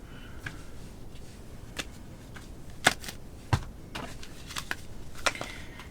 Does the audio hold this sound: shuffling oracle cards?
yes